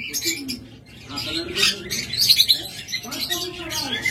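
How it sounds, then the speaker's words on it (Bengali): A pair of black-eyed yellow Fischer's lovebirds offered for sale chirps in short, bright, high tweets that come in scattered bursts, fairly close and moderately loud over a low background murmur. "এটা হলো ইয়েলো ফিশার ব্ল্যাক আই"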